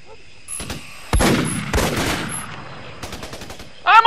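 Gunfire in the Xbox 360 shooter Raven Squad, with broadband bursts of shots and rapid cracks of machine-gun fire over about four seconds. A loud blast near the start is followed by sustained rattling and a sharp burst at the end.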